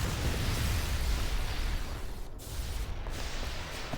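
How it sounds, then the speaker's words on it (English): An explosion attack from a shiny Zap Striker enemy in the Final Fantasy X-2 video game: a loud, sustained roaring blast that fills the clip, dipping briefly about midway and then continuing without any voices. "Zap Striker uses Explosion."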